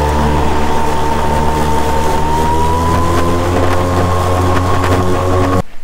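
A Toro 60V battery lawn mower revs up in supercharge boost mode, a loud, steady electric motor whine whose pitch rises slowly for several seconds before it cuts off suddenly.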